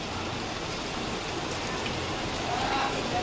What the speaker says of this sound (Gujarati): એવો મસ્ત વરસાદ પડે છે.